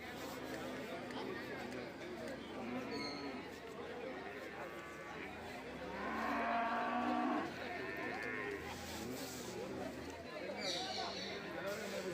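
Cattle, including cow and buffalo calves, moo repeatedly over a steady murmur of crowd chatter at a busy livestock market, some calls louder and nearer than others.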